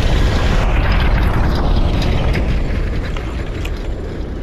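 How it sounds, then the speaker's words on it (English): Tanks rumbling past in Medal of Honor: Allied Assault, a loud, heavy, continuous low roar with mechanical clanking that eases slightly as it moves on. "Wait for the tanks to pass."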